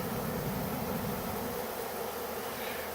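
A swarm of honey bees flies through a bee yard while moving into empty equipment, giving a dense, continuous buzzing drone that stays loud and steady throughout, with no talking.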